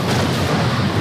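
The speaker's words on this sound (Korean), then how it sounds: "또다시 일어난 큰 폭발." A large explosion rips through a collapsing building during a firefighting rescue, a loud, dense roar that fills the whole moment without a break.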